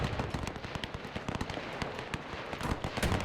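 Artillery fire in the WW1 strategy game Between Empires: a dense, continuous rattle of many rapid overlapping bangs and pops, steady in level throughout, with no voice.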